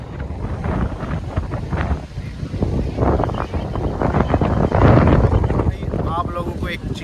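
Strong coastal wind buffets the microphone at Dhanushkodi with a loud, continuous roar that surges and dips, while people talk over it.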